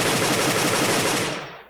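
Rapid automatic gunfire from a pre-coded weapon in the Roblox FE Gun Kit, a loud continuous burst of shots that cuts off and trails away at the end, with no talking.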